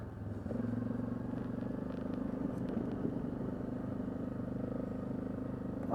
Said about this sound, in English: Boy, it's so smooth. I mean, this is a big single cylinder ATV.